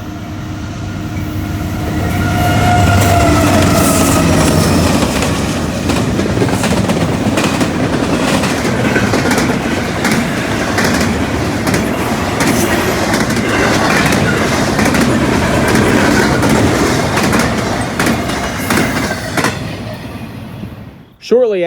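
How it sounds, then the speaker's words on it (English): A Norfolk Southern intermodal freight train led by an AC44 locomotive rolls past close by, with a steady, loud rumble of wagons and rhythmic wheel clatter across most of the clip. Faint talk sits underneath, and brief squeals rise near the end. "the first train was an NS Intermodal with an AC-44 and -9."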